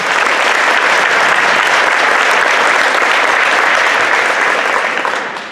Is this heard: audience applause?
yes